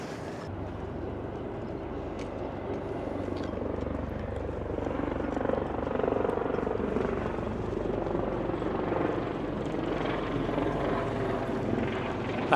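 A helicopter flies over Darling Harbour in Sydney with a continuous thrumming rotor drone. It grows somewhat louder as it passes and then holds at a moderate distance, with no talking.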